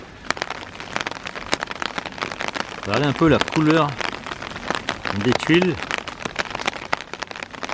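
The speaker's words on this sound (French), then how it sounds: "Je marche sous la pluie." Rain patters steadily on the ground and nearby surfaces during a walk through the streets of Beppu, Japan, a close, crackling downpour that continues throughout while someone talks over it.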